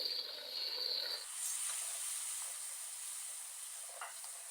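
Chopped ginger paste frying in a pan for tarka daal, a steady close sizzle with faint stirring scrapes, then a brighter hiss as one large chopped tomato goes in, no talk.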